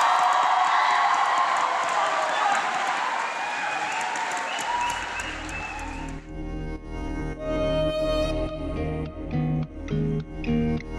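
An audience at a national song competition applauds and cheers to welcome a singer, dense clapping and crowd noise that fades after several seconds as music with singing takes over.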